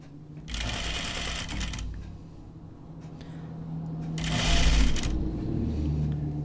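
A sewing machine stitching a tunic, run by a foot pedal, whirs in two close, loud bursts of rapid needle chatter with a quieter gap between them, no talking.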